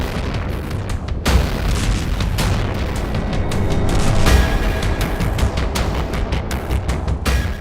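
Iranian missile strikes hitting US bases in Qatar and Iraq bring a loud, continuous run of booming blasts and sharp cracking bursts, densely layered and overlapping, with heavier thuds near the middle and no voices.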